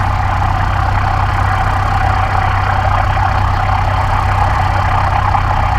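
Small airplane engine idling steadily while taxiing on an airport taxiway at Fairbanks International, a continuous loud drone with a low rumble that holds even throughout, with no talk over it.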